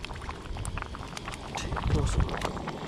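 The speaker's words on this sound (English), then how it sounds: "this has just started the rolling boil" A pot of minty lamb casserole bubbles at a steady rolling boil while camping, low burbling and popping up close, growing slightly louder toward the end.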